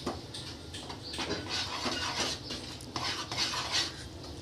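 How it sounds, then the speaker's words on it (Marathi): A spoon stirs milk powder into a thick peda mixture in a pan, scraping and knocking against the metal in an uneven run of soft close strokes. "आपण आता थोडी थोडी करून मिल्क पावडर टाकूया आणि छान असं हलवून घेऊया"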